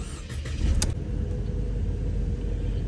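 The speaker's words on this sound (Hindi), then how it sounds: "अब चल तो गाड़ी करते हैं स्टार्ट एक बार" A Mercedes car in a mechanic's workshop, its engine showing fault codes including a temperature sensor, fires up with a brief sharp catch and then settles into a steady, close, low idling rumble.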